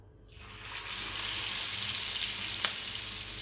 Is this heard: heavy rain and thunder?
no